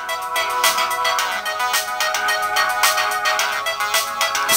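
A melodic phone ringtone plays loudly and continuously on its own, its bright tones repeating in a steady pattern for several seconds.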